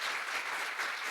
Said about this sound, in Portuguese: Aplauda Jesus, aplauda Jesus.